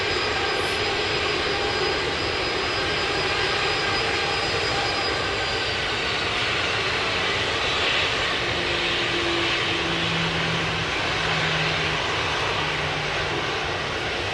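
Several airliners taxi in a queue at Sydney Airport, their jet engines making a steady, broad roar that holds evenly from start to finish at moderate distance, with no voices.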